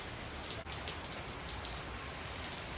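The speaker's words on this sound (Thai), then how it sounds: "ตอนนี้ก็ต้องรอ เรื่องของฝนให้หยุดตกก่อนแล้ว" Steady rain falls on a street-side rooftop and surfaces, a dense, even hiss with faint scattered drips, heard alone with no voices.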